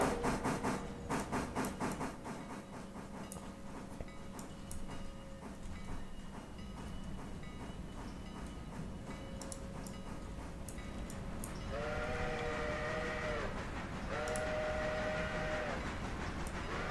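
Steam locomotive rolling past in the train simulation game Railroader, steady rumbling rail noise with rhythmic clicking and a few tonal whistle blasts toward the end, fairly loud and continuous.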